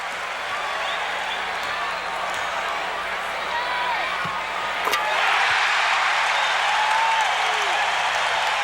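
A sellout crowd of over 15,000 in an Orlando basketball arena cheers and applauds continuously, a dense wall of roaring noise that swells louder partway through with a sharp bang near the middle, no clear talk.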